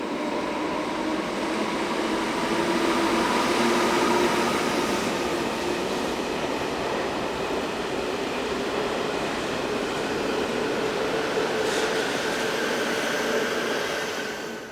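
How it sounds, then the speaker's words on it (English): Swiss freight train of hoppers hauled by ex-passenger Class 576 power cars, numbers 59 and 49, rumbling steadily past a station with a continuous rolling roar and faint wheel squeal, sustained throughout with no voices. "these hoppers powered by ex-passenger Class 576 power cars, numbers 59 and 49"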